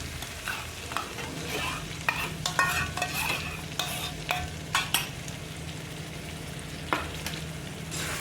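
Curd being stirred into a spicy peanut curry in a pan, a continuous sizzle broken by frequent scraping spoon strokes and light clatters, close but fairly quiet, with no talking.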